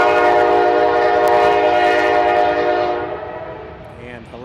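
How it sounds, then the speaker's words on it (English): Train horn sounding in the background near a baseball game between the Maple Leafs and their opponent, a sustained loud horn blast that fades after a few seconds. "There goes the train back there."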